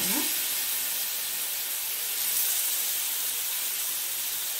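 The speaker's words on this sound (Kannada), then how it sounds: "ಒಂದೊಂದನ್ನೇ ಫ್ರೈ ಮಾಡೋಣ" Masala-coated leather jacket fish frying in hot oil, one piece at a time, makes a continuous dense sizzle with a brief splash of sound at the very start.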